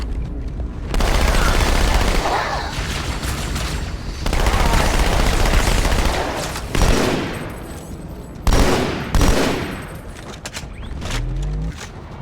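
SMG fire in the video game Halo 2, with rapid automatic bursts that come in long runs and short stretches, separated by brief pauses and some lower booms.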